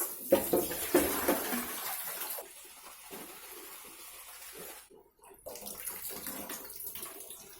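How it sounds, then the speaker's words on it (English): Running tap water splashes steadily into a sink while about 100 grams of spinach is rinsed, louder at first, then a brief pause before the flow continues. "Washing the spinach now, about 100 grams."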